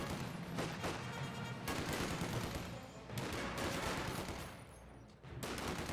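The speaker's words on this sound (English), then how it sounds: "Rifle Squad just continue firing away." In the Company of Heroes 2 game, a rifle squad fires in continuous bursts of rapid gunfire, a dense crackling fusillade with short pauses between volleys, fairly faint overall and without talk.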